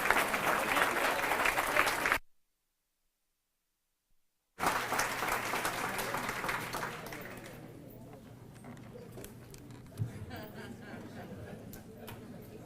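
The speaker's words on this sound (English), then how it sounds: "How about another round of applause for Javier?" Audience applause at a neighborhood best practices conference, loud sustained clapping that breaks off into silence, then resumes and gradually fades to scattered claps with crowd murmur.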